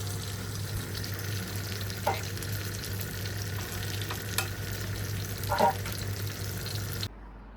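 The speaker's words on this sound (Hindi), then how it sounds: "यहाँ पे जी हल्की हल्की आंच पे दूध पत्ती बना रहे हैं।" Milk tea simmers on a low flame with a steady bubbling hiss and a constant low hum, a few faint clinks along the way, close and quiet, cutting off abruptly at the end.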